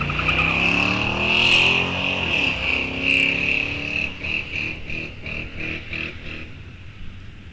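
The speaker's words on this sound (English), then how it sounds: "A lot of ripping on the throttle by Lily Hansen." A drag racing car launches at an ET bracket series race at Rock Falls Raceway, its engine revved hard in a loud, continuous roar that climbs and drops in pitch, close and with no talk.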